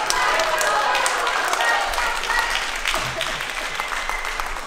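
Audience applause at a Bharatanatyam dance arangetram in Halifax, a dense sustained clapping that holds steady and thins slightly toward the end, with voices faintly mixed in.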